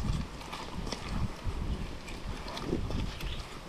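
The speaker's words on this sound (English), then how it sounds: "it's super windy, so we have to compensate for the wind" Strong wind blowing outdoors at a beachside cooking fire in Jamaica, buffeting the microphone in steady gusty rumbles throughout, with no talking.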